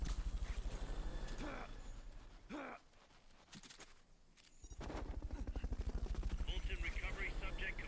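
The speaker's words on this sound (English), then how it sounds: "Fulton recovery helicopter is complete" Helicopter rotor chop from a Fulton recovery helicopter in Metal Gear Solid: Peace Walker throbs loudly, drops away briefly midway under grunting voice sounds, then returns strong and rhythmic.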